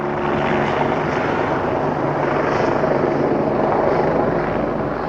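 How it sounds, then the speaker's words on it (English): A loud, steady helicopter rotor drone hovering overhead above a garden fills the air continuously, a dense throbbing roar with no pauses and no voices. "Now, if it's not the rain, it's a helicopter."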